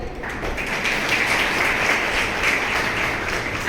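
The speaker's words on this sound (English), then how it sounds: "Can you clap for yourself?" Children in a school panel discussion on harmony with nature applaud themselves, a dense, steady wash of many small hands clapping together for several seconds without pause.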